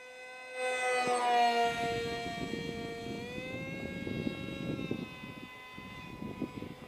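An RC MiG-29 model jet, a twin-engine electric ducted-fan plane, passes overhead with a steady turbine-like whine that swells loudly, shifts slightly in pitch and holds on in the distance.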